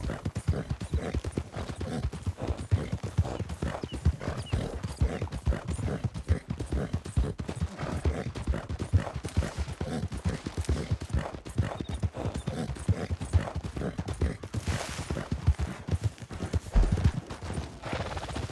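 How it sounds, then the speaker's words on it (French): Horse hooves clip-clop in a steady, continuous rhythm as a well-trained horse is ridden, close and fairly loud throughout with no talk over them. "Ah, quel plaisir de monter un cheval bien entraîné."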